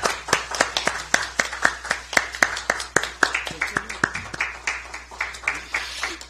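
Audience at a Democratic Party political event claps in a sparse, steady rhythm of close, sharp handclaps that gradually thin out, with no speech over it.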